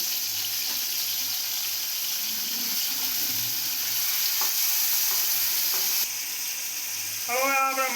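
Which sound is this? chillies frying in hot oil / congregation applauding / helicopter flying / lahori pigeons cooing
chillies frying in hot oil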